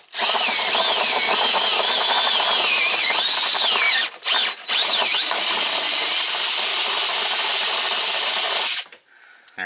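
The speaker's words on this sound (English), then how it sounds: "we just gotta drill out the hole" A power drill bores out a hole in preparation for setting a rivet nut with a threaded insert tool. The loud whining drill runs steadily for about four seconds, pauses briefly twice, then resumes until it stops near the end.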